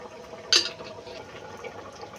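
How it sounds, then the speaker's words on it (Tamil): Oil poured into a pan while making semiya and javvarisi payasam: a short, brief splash of liquid near the start, followed by a soft, steady low hiss with no talking. "எண்ணெய் ஊற்றி"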